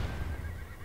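A horse whinnies in the video game Realm Royal, a short, fairly faint neigh set over a steady low background hum.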